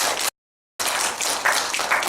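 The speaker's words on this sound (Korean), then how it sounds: "박수가 너무 약합니다. 세게 주세요." A university classroom audience claps in a dense, steady burst of applause. The clapping cuts out briefly and then resumes at full strength.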